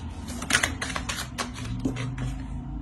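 Tarot cards being drawn and laid down, a series of brisk papery slaps and shuffles close by, several sharp taps in quick succession over a faint low hum.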